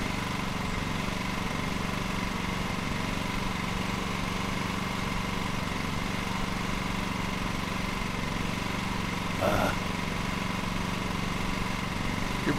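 Small lawn mower engine in the Lawn Mowing Simulator video game, a steady continuous drone at even loudness throughout with a brief rise near the end, no talk.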